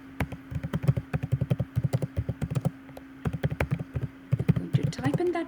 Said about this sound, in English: I'm going to type in that really quick.